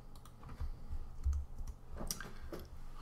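Typing on a new computer keyboard, a run of quiet, irregular key clicks at close range with a low background hum, no voices.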